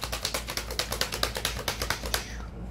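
Tarot cards shuffled in a quick run of about fifteen crisp riffling snaps at a steady rhythm, close and alone, ending with a brief settle of the deck.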